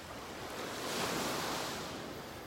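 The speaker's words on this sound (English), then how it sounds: "The waves lapping on the shore." Ocean waves lap on a beach shore in North Naples, Florida, a soft, low wash of surf that swells and fades once over a few seconds, with no voices.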